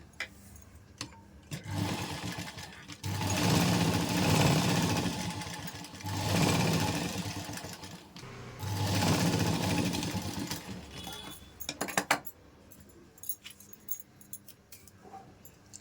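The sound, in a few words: sewing machine stitching saree cloth piping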